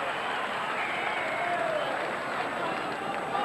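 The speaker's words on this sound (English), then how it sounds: "The crowd enjoys the decision of Paul McBlain." Rugby league crowd at a 1999 St George Illawarra versus North Sydney match, a steady broad roar of cheering and applause from a large stadium audience, continuous and fairly loud throughout.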